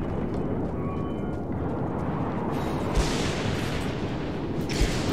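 Explosive spear blasts from an enemy vehicle in the Mad Max game: a dense, continuous roar of rumbling detonations, loud throughout, with sharper booms punching through near three and five seconds.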